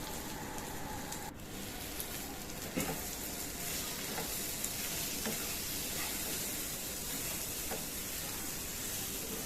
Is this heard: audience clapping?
no